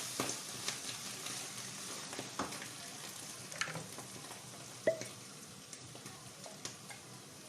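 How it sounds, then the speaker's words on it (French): Sea bream fillets fry skin-side down in butter with a little oil, meunière style, giving a soft, steady sizzle with scattered crackles and small pops close by; no one speaks. "Alors je vais commencer à cuire mes dorades sur le côté peau."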